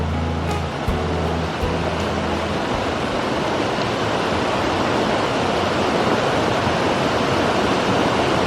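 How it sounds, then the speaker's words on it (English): Little Zigzag Falls on Mt. Hood roars as a steady, dense wash of falling water. A low rumble sounds briefly at the start, and then the broad, even hiss continues unbroken. "So it's called Little Zigzag Falls, not Little Creek Falls."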